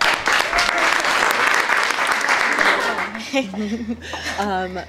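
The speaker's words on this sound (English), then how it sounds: "So, round of applause for Nick." Round of applause from a classroom audience of students, dense clapping that fades out as a voice begins speaking.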